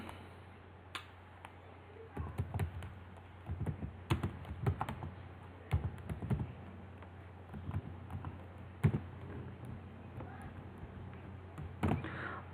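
Keys clatter on a computer keyboard as HTML code for a school website is typed, an irregular run of close, light clicks and taps in short bursts over a steady low hum, with no talking.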